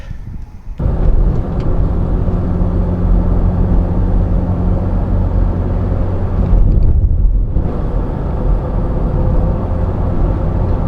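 Old £500 car on the road, a loud, steady engine drone and road rumble heard from inside the cabin, with a brief swell of wind roar partway through and no speech.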